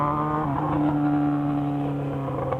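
A Yamaha XJ6 motorcycle engine hums at a steady, moderately loud pitch while riding through curves, its tone shifting slightly as the bike settles into the bend, with no voices.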